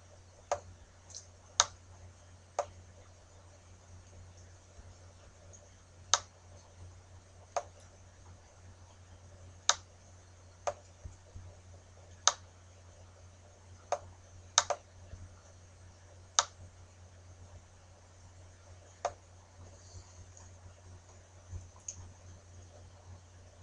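A computer mouse clicks sharply and irregularly, about a dozen crisp single clicks scattered through a quiet room with a steady low hum, and no one speaks.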